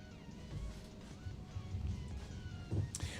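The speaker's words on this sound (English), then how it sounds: "We got some ducks getting ready to get run." Ducks by a roadside give a few nasal honks and quacks, scattered over a steady outdoor rumble, with one louder call near the end and no talking.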